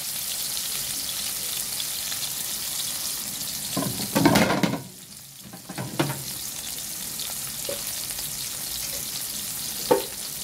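Rib eye steak fries in a pan with garlic and butter, giving a steady, dense sizzle that swells into a louder burst of spitting partway through, then settles back with occasional pops.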